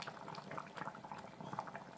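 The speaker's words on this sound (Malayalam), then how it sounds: "മീൻകറി കുറേ നേരമായി തിളച്ചിട്ട്" A pot of mackerel curry cooked with mango bubbles on the stove, a soft continuous simmer with small popping bursts, fairly quiet and close.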